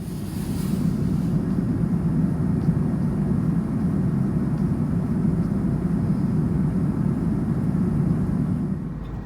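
Steady low roar of an airliner cabin in cruise on a Virgin Australia flight from Hong Kong to Melbourne, a constant broadband hum held at even loudness throughout with no talk.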